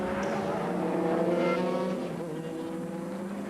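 GT race cars at Oschersleben, a Carsport Holland car pressed by a Ferrari, engines droning loudly as they pass, pitch shifting down as one pulls away near the end.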